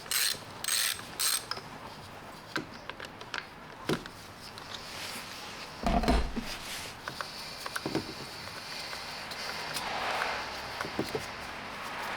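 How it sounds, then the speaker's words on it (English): Ratchet clicking while removing the 7mm ignition coil bolts on a 2001 Jaguar XJR, heard as close, bursty mechanical clicks and ratcheting in short runs with pauses between, plus a few tool knocks. "Now remove the 7mm bolts holding the ignition coils."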